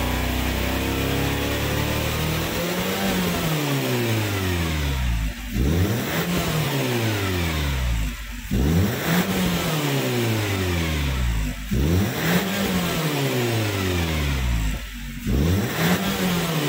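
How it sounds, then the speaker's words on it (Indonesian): A Nissan Serena C26 engine revs up repeatedly in a steady cycle to blow carbon deposits from the exhaust tip, each rise in pitch falling back before the next, loud and close. "Kita lakukan pengegasan untuk pengeluaran kerak-kerak karbon dari ujung knalpot."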